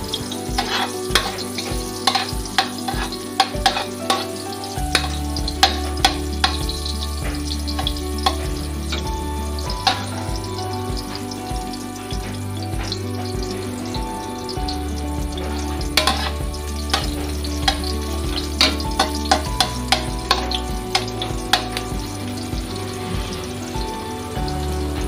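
Onions frying in hot oil for tinolang manok, cooked outdoors: a steady close sizzle runs the whole time, with scraping stir strokes and a low rhythmic thumping at the start, and no talking.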